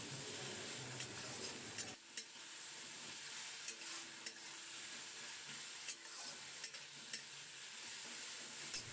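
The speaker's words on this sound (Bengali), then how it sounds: "বাটা মশলাটা পেঁয়াজ আর টমেটোর সাথে মিশিয়ে নিয়ে একটু কষিয়ে নেব" Ginger, garlic and green chili paste sautéing with onion and tomato in a pan for a duck egg and potato curry, giving a steady close hiss and sizzle with intermittent stirring scrapes and clinks throughout.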